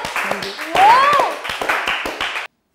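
A few people clap in a quick, uneven patter, mixed with excited voices and a brief squeal, in a casual indoor setting.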